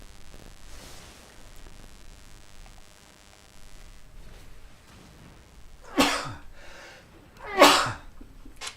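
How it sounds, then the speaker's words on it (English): Two loud, close sneezes burst out a second or so apart after a stretch of quiet room noise and faint rustling. "Excuse me, I just sneezed there."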